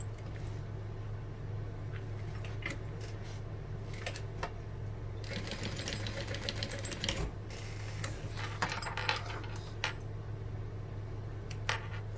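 A sewing machine basting the bottom of a vintage-style barrel bag closed, a steady mechanical whir with clicking bursts over a low hum, close and continuous, with no talk.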